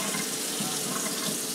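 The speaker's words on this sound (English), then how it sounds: "Now, I'm going to rinse my hands." Tap water runs over hands rinsed at a kitchen sink, a close, continuous splashing hiss that stays even throughout the short stretch, with no talking.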